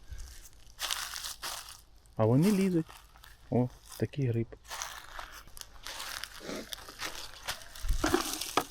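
Dry twigs and leaf litter crackle and crunch in scattered bursts as someone walks through a forest in September, with a person talking intermittently over the rustling.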